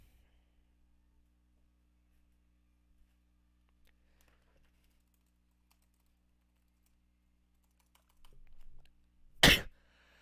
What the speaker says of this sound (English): sorry to sneeze into the mic